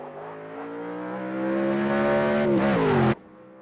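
A Sauber C9 Group C race car accelerates hard, its engine note climbing steadily and loud before a brief gear change and an abrupt cut-off near the end.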